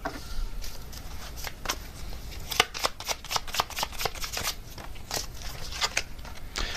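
Tarot cards being shuffled by hand, a run of crisp riffling flicks and soft papery slaps, close and fairly quiet with no talk over them.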